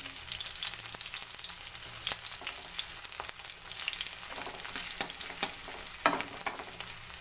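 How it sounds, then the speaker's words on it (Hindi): Garlic sizzling in hot oil, a continuous crackling hiss broken by brief stirring scrapes and louder pops near the end. "लहसुन डालूंगी"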